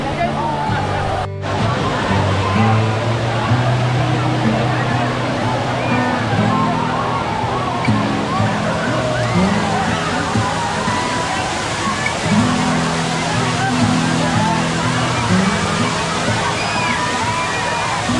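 Water overflows at Khem Dam in Dapoli, a constant rushing, sloshing roar that continues for the whole stretch while people talk nearby over it.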